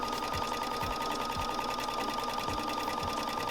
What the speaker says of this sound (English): sew along the unnotched edges